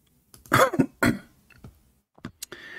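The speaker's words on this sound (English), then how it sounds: "Sorry, guys, I'm coughing." A man coughs and clears his throat a few times in quick, close bursts, with short pauses between them and no speech.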